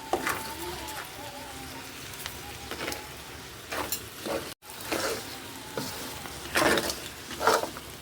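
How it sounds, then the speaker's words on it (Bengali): Olive pickle cooking in a pan while sugar is stirred in, giving repeated scraping and stirring strokes in uneven bursts over a low sizzle, close by, with a voice speaking at times. "চিনি দিয়ে আবার নাড়তে হবে, চিনিটা যাতে মিক্সড হয়"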